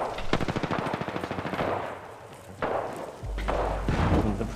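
A rapid burst of automatic gunfire in Apex Legends rattles for a couple of seconds, followed by a few heavier single shots with booming low thuds.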